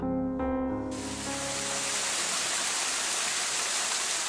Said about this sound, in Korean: 한여름 월출산은 폭포소리가 요란하다.